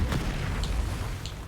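Fiery blasts from a Confringo spell in Hogwarts Legacy, a dense rumbling boom sustained throughout, with short brighter bursts popping up near the start, middle and end.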